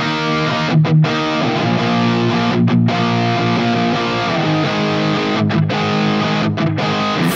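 Electric guitar played through a Vox AC30 amp model on a Fractal unit, with edge-of-breakup crunch: dense sustained chords, loud and continuous, with a few brief gaps between strums and no talking.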